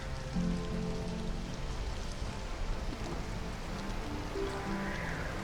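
Rain in the survival game Stranded: Alien Dawn, a steady close wash of rainfall drumming on surfaces, with faint low tonal game ambience beneath and no voices.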